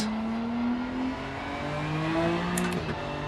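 A race car in the Rennsport racing game pulls away from the start line in first gear, a steady engine drone rising slowly in pitch, with no voices over it.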